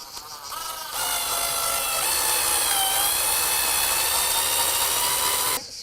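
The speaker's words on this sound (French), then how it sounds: "Il ne reste plus qu'à visser." A power screwdriver drives a screw into a wall plug to fix a roller mosquito net, a continuous high whining motor drone lasting several seconds, close and loud, with a brief start and a sudden stop.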